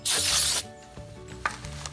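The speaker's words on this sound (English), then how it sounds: "if you just spray on some brake cleaner real quick around the outside" Brake cleaner sprayed onto car brake rotors during a Honda Pilot brake change, one short loud aerosol hiss near the mic lasting about half a second, then quiet with light handling clicks.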